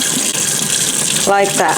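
Tap water runs steadily while homemade butter, made from raw milk, is washed by hand in a sink, with a voice speaking briefly over the flow.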